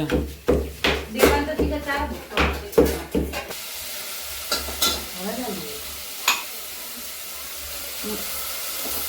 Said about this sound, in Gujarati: મરચં લસણ કોથમીર પછી લીમડો બધું નાખીને આ વઘાર કર્યો